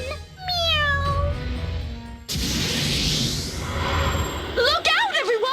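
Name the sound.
cat meowing in the video game Bravely Second: End Layer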